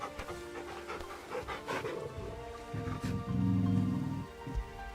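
A dog pants in quick rough bursts while being petted in the Final Fantasy 16 video game, close and moderately loud, with a low hum of background music or ambience.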